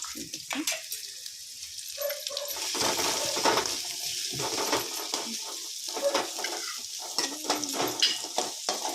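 Chopped onions frying in oil in a pan for noodles, with a steady crackling sizzle, scattered clinks and stirring scrapes throughout, close and fairly loud, and some faint talk underneath.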